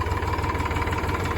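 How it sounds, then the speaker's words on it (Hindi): A tractor engine idles close by with a steady, rhythmic low chugging and vibration, loud and continuous throughout. "पुष्पेंद्र बैठ के मजे ले ट्रैक्टर में"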